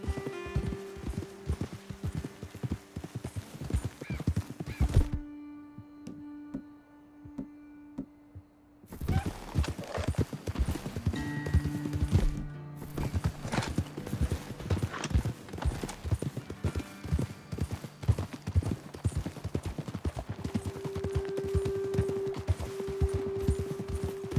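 Horses ridden at a steady pace in Red Dead Redemption 2, hooves clip-clopping in a continuous close rhythm across rough ground, with a short quieter stretch and a whinny-like tone midway, ambient game sounds underneath.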